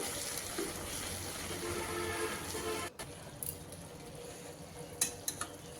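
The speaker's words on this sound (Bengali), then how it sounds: "আলুগুলো খুন্তি দিয়ে আমি একটু ম্যাশ করে দিচ্ছি" Potatoes being mashed with a spatula in a pan of vegetarian mixed-greens dish, giving steady scraping, stirring and soft sizzling, with a short pause and a few sharper clinks of the spatula against the pan near the end.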